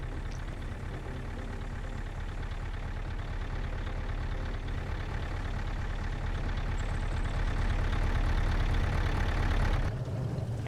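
A vehicle engine idles in a WW2 video game battle, a steady low rumble that runs nearly the whole time and then cuts off abruptly near the end, with no talking.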